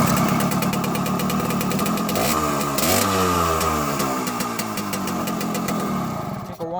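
Small engine idling right after a carburetor install and a 6-to-12-volt conversion, smoking as it runs: a steady, close, pulsing chug that swells briefly in a short rev midway before settling back to idle.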